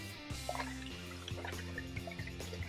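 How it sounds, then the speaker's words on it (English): Water drains out of a Pythagorean cup in a faint, quiet trickle, with soft drips and gurgles recurring throughout and no voices. "it's gonna empty almost all of the contents of the Pythagorean cup"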